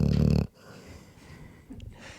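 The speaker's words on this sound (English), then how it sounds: "He's snoring." A dog snores in a short burst, a loud, rough rumbling breath at the start followed by quieter, fainter breathing and a small snort near the end.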